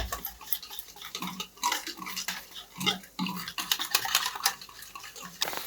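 Gatta curry masala being stirred and mixed in a pan at home, with scattered metallic clinks and scraping taps of a spoon against the pan in an uneven rhythm, close and moderately loud, no talking.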